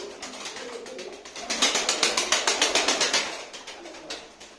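Pigeons flutter and peck close by, with rapid rhythmic wing flaps and soft scratchy pecking in a busy cluster of birds.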